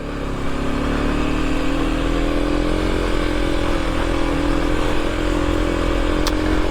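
An adventure motorcycle putters along Kelly's Lane Trail on the Cabot Trail in first gear, a close, loud, steady low engine drone with rough clatter and no talking.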